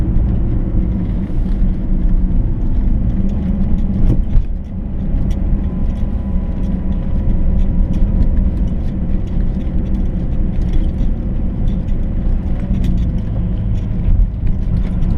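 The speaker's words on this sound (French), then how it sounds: "On a vite fait d'être surpris par les voitures qui montent." Cars climb the steep mountain road of the Col de Romme above Cluses in the French Alps, a steady loud engine and road roar passing close and continuing without a break.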